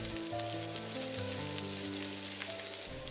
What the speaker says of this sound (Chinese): 开大火， 放入猪油和猪油渣粒， 加入已经洗干净并且切碎的虾米， 已经泡发并且切成丝的干冬菇